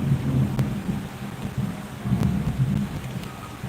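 Heavy rain pours down in a constant hiss, with deep thunder rumbling low underneath and swelling in slow waves, a few sharper drips or cracks cutting through.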